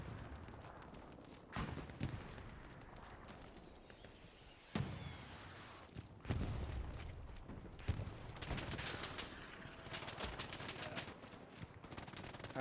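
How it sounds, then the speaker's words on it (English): Trench shotgun fire in a Hell Let Loose battle, several sharp blasts spaced seconds apart over quieter battlefield ambience, with scattered distant gunfire in between. "That trench shotgun is deadly at range."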